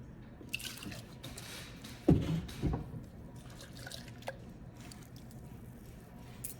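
Water rinsing a mite-sampling jar or filter, with a few distinct drips and splashes near the middle against a low running background, fairly quiet and close.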